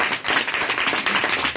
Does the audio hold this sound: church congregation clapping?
yes